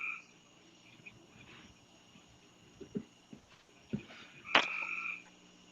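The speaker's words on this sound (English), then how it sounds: "The frog just keeps talking." A frog croaks once, loud and close, in a short bright burst near the end of an otherwise quiet stretch with soft low knocks.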